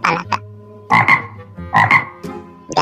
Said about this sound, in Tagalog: Makahanap muna kami ng palaka.